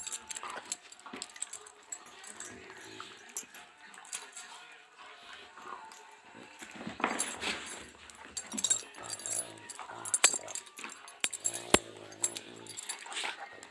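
Labrador retrievers play together, with scattered yips, whimpers and scuffling bursts at close range. Mild background noise runs throughout, and there is no clear talk.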